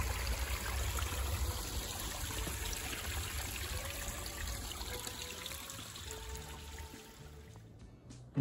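Muskrat Creek on the Appalachian Trail flows with steady trickling and babbling at moderate distance, a constant outdoor stream sound that cuts off abruptly near the end.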